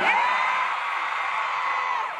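A large evening concert crowd in Manila cheers, whoops and shouts without a break, loud and dense throughout, with massed voices forming a steady roar.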